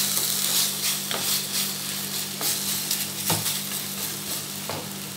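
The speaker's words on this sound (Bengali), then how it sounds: "আলুটা আমি এর সঙ্গে ভালো করে মেশাবো।" Boiled mashed potato is worked into a banana flower mixture in a pan, with a spoon scraping in repeated strokes over a steady hiss, close and unaccompanied by talk.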